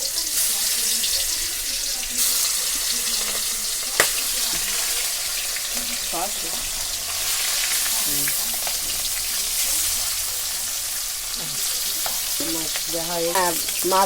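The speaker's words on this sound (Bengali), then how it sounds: "তেল গরম হয়ে গেছে আমি এখন মাছ মাছ দেব" Whole fish sizzles steadily in hot oil in a home kitchen, a continuous bright crackle running close and loud throughout, with a voice speaking briefly over it at moments.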